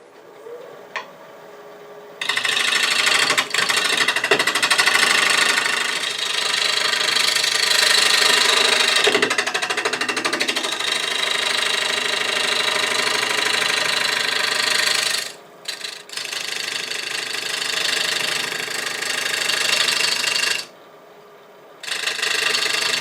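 A wood lathe spins a bowl with handles while a tool cuts along the taper, a loud continuous hiss and whir broken by brief pauses where the cut stops.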